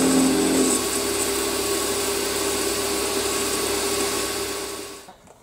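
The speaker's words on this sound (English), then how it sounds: "I'm just skimming off the marking outlines." A machine tool hums steadily as it skims a metal plate, a constant whirring drone close by that winds down and stops at the end.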